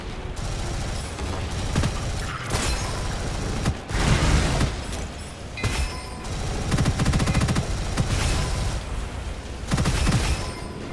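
Rapid gunfire fills the video game Gunfire Reborn: an SMG fires sustained bursts, and heavy booms and shattering impacts cut in, loud and close with no talk over them.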